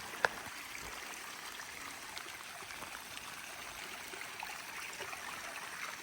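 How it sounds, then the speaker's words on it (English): A stream flows on an off-grid homestead in northern Arizona, a steady, soft rushing of water that continues unbroken at a moderate distance, with one small click near the start. "So if we see the water's rolling through over there."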